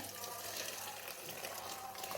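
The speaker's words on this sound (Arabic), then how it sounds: "نبدأ بقى انزل عليها مية سخنة كده" Hot water pours steadily over food in a cooking pot, a continuous close splashing and gushing with no break.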